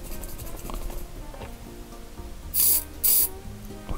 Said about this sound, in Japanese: こう加速浸剤スプレーですね